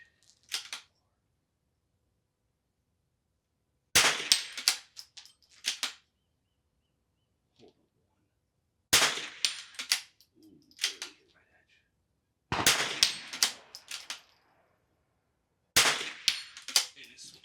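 Single .22 rifle shots ring out one at a time at an NRL22 match, four sharp cracks spaced several seconds apart, each followed by brief ringing, with short voices heard between them.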